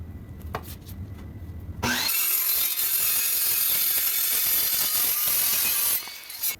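A 3/16 inch steel strip being cut for rock slider mounting plates on a 4th gen 4Runner, a loud, continuous harsh power-cutting roar that starts abruptly after a quieter lead-in and runs steadily for several seconds before stopping.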